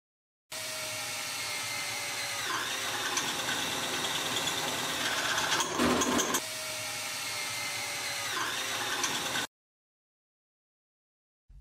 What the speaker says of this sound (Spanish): Necesitarás perforar cuatro agujeros alrededor del centro de la rueda.